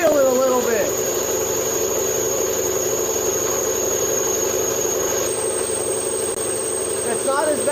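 The belt on an air compressor squeals steadily over the constant mechanical hum of the running machine. It sounds close and loud, with a rising chirp at the start and the end.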